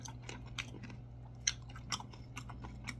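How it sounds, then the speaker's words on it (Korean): Someone eats breakfast, with quiet close chewing and a few small crunchy bites spread across a few seconds over a low steady hum. "11시 좀 넘었는데 이제 아침을 먹어요"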